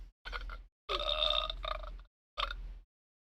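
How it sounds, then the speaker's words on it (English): A novelty sound box plays a loud, close burp effect in several separate bursts, with short silences between them and no talking. "She hit the sound box with the burp noise"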